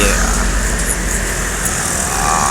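A bus passing on an Indonesian road, heard from a nearby vehicle as a steady rushing roar of engine and tyre noise for a couple of seconds.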